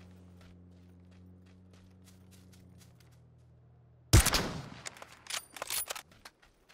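Gunfire in PUBG on console: after a quiet stretch, a sudden loud burst of rapid shots erupts, followed by several more uneven volleys and cracks, close and harsh.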